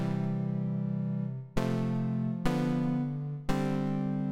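Synthesizer wavetable tone from a KRC Mathwaves module, starting as a nearly pure triangle wave and morphing in stepped jumps; a sustained, steady pitched tone with three sharp timbre shifts, played alone.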